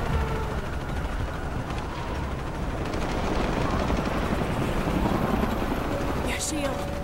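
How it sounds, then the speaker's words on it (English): Helicopters in the video game Shadow of the Tomb Raider keep up a dense, loud, pulsing rotor roar with rumbling low-end noise throughout. Voices talk under the din. "More helicopters."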